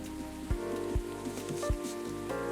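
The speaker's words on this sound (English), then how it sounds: "A place to be safe where the rain falls outside." Soft rain falling outside in Coffee Talk Episode 2 forms a gentle continuous patter beneath mellow background music, with a few low soft thumps spaced through the short stretch.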